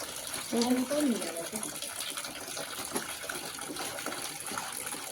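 Clothes being hand-washed with soap and detergent powder by someone sitting on a low plank, giving a steady wet rubbing and water noise throughout, with a brief voice near the start.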